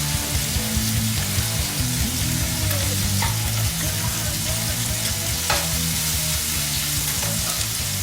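Scallops sear in a hot pan, browning toward a golden crust, with a steady dense sizzle running throughout, close and fairly loud, broken now and then by faint scraping or stirring clicks.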